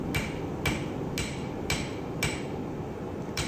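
A ball peen hammer strikes metal in an even rhythm during pattern welding, about seven ringing blows spaced roughly half a second apart, close and clear.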